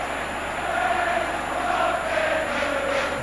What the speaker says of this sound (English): The crowd singing "We shall not be moved"